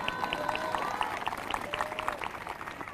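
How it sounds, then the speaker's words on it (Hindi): Audience clapping during a Hindi church sermon: a quiet, scattered patter of hands in a large room, somewhat distant, with faint talk underneath. "आपने कहा हालेलुया, आपने ताली बजाई ना, बजाई ना?"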